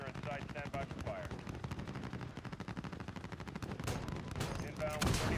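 Rapid heavy automatic cannon fire from an aircraft gun run rattles steadily in Call of Duty Modern Warfare, loud and continuous with a brief louder burst near the end, a voice faintly present beneath it.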